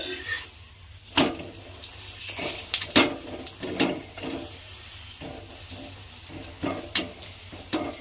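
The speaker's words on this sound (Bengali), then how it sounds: "এইভাবে পরোটাটা কিন্তু চেপে চেপে ভালোভাবে লাল করে ভেজে নিতে হবে।" Cauliflower paratha frying in white oil on a pan, a steady sizzle broken by repeated pressing and scraping knocks from a spatula, close and clear.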